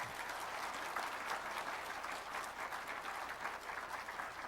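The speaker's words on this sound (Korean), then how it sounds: "환영의 박수로 맞이합니다" A church congregation claps steadily in welcome for a pastor at a worship gathering, a dense, even wash of many hands sustained throughout at moderate level.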